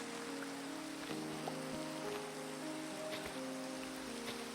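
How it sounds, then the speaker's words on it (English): Gentle rain falling over a Minecraft village, a steady unbroken patter at moderate level with soft sustained musical tones drifting underneath, no voices. "cool, but slightly warm rain."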